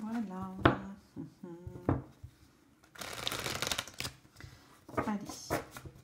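Tarot cards are shuffled by hand in rapid riffling bursts, loud and close, while someone talks between and around the shuffles.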